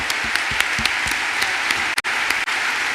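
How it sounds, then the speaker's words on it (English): An audience at the WCIT 2019 event claps steadily and densely, with a few sharper nearby claps standing out from the crowd, and no voices. "A round of applause, please, to Magdalena for an amazing interview as well, please."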